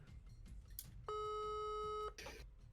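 Phone ringing on an incoming call, a single electronic ring tone lasting about a second, clear and steady, with soft background noise and brief clicks around it.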